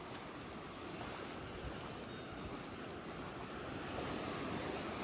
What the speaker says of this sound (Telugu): అలలు కూడా గట్టిగా రావు, అంటే పైన మన వైజాగ్లో ఎక్కువ వస్తాయి.